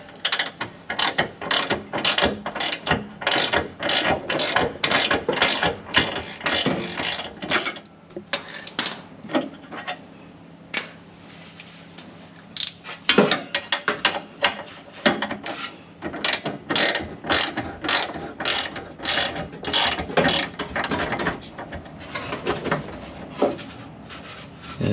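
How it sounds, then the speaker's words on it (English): A ratchet wrench clicking in rapid bursts while a built OS Giken differential is fitted into a Supra, loud and close with a short pause mid-way before the ratcheting resumes. "Where did I put that damn ratchet?"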